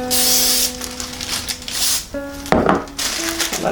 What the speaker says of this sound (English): I spray this with Pam as well so that we can spread it out and it doesn't stick.